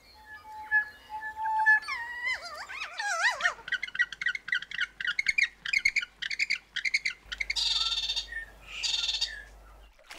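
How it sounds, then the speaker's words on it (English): Native New Zealand birds call in a rapid, loud sequence: whistled notes sliding into warbling trills, then bursts of harsh squawks and chattering chirps, close and clear with no talking. "Birds became as varied as the landscapes they lived in."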